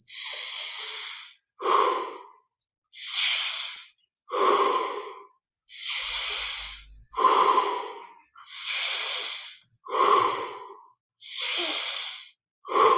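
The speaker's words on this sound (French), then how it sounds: "on va prendre encore un peu plus d'air à chaque fois pour saturer le corps en oxygène" Deep, vigorous breaths during a guided breathing exercise: ten strong inhale-exhale cycles in an even rhythm, each a loud, airy rush close to the mic, separated by short silences and with no talking.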